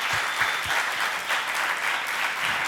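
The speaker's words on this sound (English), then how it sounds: "Please, big round of applause as well." Steady applause from a startup pitch-night audience fills the room, a dense, even wash of clapping that holds at a constant level throughout.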